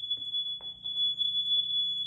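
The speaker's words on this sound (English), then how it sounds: "but it set off the alarms. And I can't turn those off." A smoke alarm triggered by a burst water pipe in a house, sounding as a continuous piercing high-pitched tone, loud and unbroken, with a low buzzing hum and faint clatter underneath.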